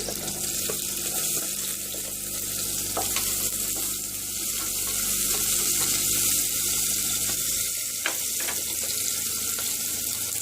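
Sliced onion sizzles steadily in hot oil in a pan for a traditional moringa leaf curry, a continuous hiss with faint clinks, no talking.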